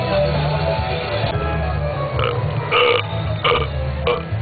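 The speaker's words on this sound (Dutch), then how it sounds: "Alle soorten boeren op een rijtje in een korte boerenimpressie." A person produces a run of deliberate burps: several long, rough, guttural belches in succession, loud and close, with short pauses between them.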